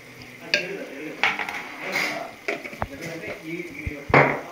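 Chole curry masala being stirred and fried in a pan, with a spoon scraping and clinking against the metal in short bursts over a steady low sizzle, close and moderately loud.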